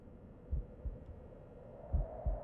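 Heartbeat in the horror game PARANORMASIGHT: slow, muffled double thumps, two pairs spaced across a couple of seconds, low and close under a faint steady hum, with no talking.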